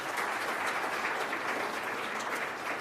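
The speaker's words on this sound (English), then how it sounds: "let's give them one more big round of applause for putting themselves out there" Steady, dense round of audience applause for district attorney candidates after a debate, a continuous even wash of many hands clapping with no talk over it.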